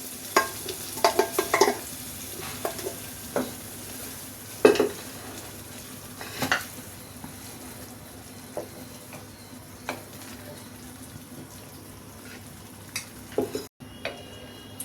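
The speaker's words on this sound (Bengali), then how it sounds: "এখন আমি ডালটাকে এর মধ্যে ঢেলে দিই" Dal tipped into hot oil in a pan sizzles steadily at a low level, while a spoon stirs it with scattered scrapes and taps against the pot; no one speaks.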